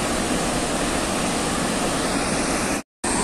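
Steady roaring rush of water from a waterfall fed by a canal with a wall, loud and continuous with a brief dropout near the end.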